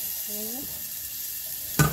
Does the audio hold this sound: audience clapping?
no